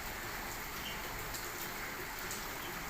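Heavy rain pours steadily over Bahria Town in Rawalpindi during an early-morning storm with hail, a dense, even hiss that stays constant throughout with no voices.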